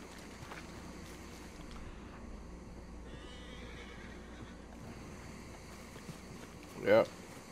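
A horse gives one short, loud neigh near the end, outdoors in an Old West setting, after a stretch of low wind and ambient noise.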